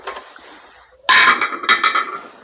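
Metal waffle maker plates are unclipped and pulled off the appliance, a faint rattle first, then loud clanks and clinks of plate on metal close by, followed by a few more knocks as the plate is shaken free.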